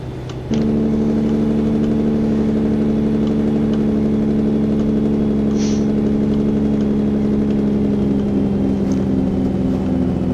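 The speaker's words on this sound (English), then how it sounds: "The engines actually sound realistic. The engine brakes and whatnot." A heavy truck engine in American Truck Simulator drones steadily and loudly with a deep, continuous rumble, starting suddenly and holding a strong, even tone throughout with slight shifts in pitch.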